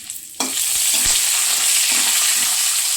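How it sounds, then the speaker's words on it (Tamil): Whole spices, cardamom, fennel, cashews and bay leaf, drop into hot oil and burst into a loud, continuous sizzle, with scattered stirring scrapes against the pan. "எண்ணெய் ஊற்றிட்டு நான் சொன்ன மசாலா பொருட்கள்லாம் போட்டுடலாம். நல்லா ஃப்ரை பண்ணிக்கலாம்."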